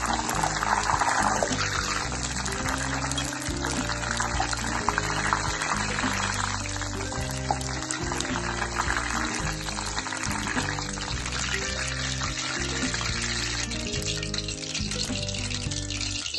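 Curry leaves, green chillies and crushed garlic frying in hot oil, with a steady, loud sizzle and crackle throughout, plus faint stirring clinks.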